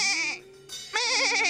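A human voice imitates a goat, giving two wavering, nasal bleats separated by a short pause, close and loud.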